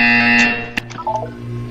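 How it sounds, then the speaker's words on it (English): Electronic buzzer in the video game Portal 2, a single sharp burst cutting through steady synthesized game music and tones, followed by a few softer electronic blips. "You will hear a buzzer."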